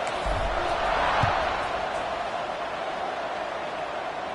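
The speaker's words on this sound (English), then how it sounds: "this crowd is buzzing after that last score" A stadium crowd buzzes in the NCAA Football 26 video game after a score, a steady, dense roar of broadband noise that swells slightly early on and then holds level throughout.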